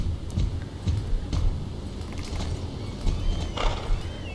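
A horse ridden in the Star Stable video game, steady clip-clop of hooves with a brief neigh near the end, fairly loud and alone without talk.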